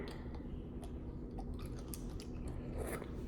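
Close, continuous chewing and crunching of fast-food french fries from Culver's, with soft irregular bites over a steady low background hum and no talking.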